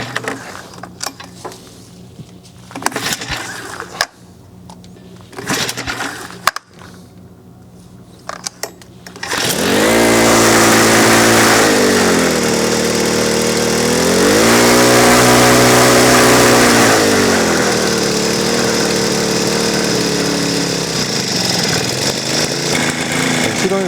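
A Jinsung JEV-10 self-propelled plastic mulch layer with a recoil-start small engine: a few short pulling clatters, then the engine catches and runs with a loud, steady buzzing drone that rises and settles as the throttle changes.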